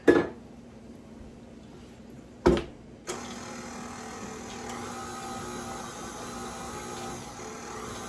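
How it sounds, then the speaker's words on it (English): An electric mixer blends chocolate zucchini cake batter, starting after a couple of brief clunks and then running as a steady, moderate motor whir to the end. "I think I should be able to blend everything in the mixer yet before I take and put it in the pan."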